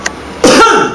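A storyteller performing a traditional Chinese comic tale gives one fake cough, a sharp, close throat-clearing hack after a brief click and a moment of quiet, imitated by voice.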